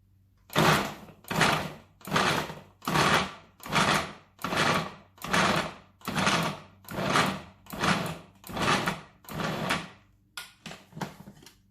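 A food processor pulses about a dozen times to chop vegetables for veggie cream cheese, each burst a loud whirring chop about a second long with short pauses between, ending in a few quicker, shorter pulses.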